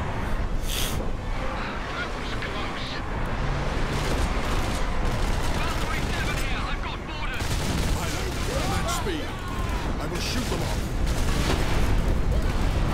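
A heavy bolter fires at attacking orcs in Warhammer 40,000: Space Marine, sustained bursts of rapid, loud gunfire and explosions that rise and fall over a dense battle din, with faint voices mixed in.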